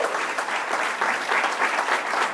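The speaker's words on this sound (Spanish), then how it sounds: "¿Por qué no le da un aplauso a Dios?" A church congregation claps at a pastor's call to applaud God, a dense, steady burst of many hands filling the space close by for a couple of seconds.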